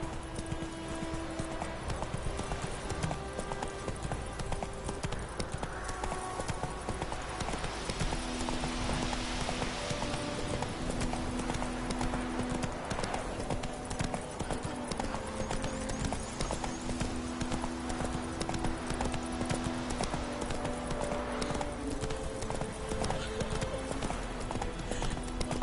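Hooves of the horse Roach clip-clop in a steady galloping rhythm in The Witcher 3, heard over continuous game music and ambient sound, with a faint whinny.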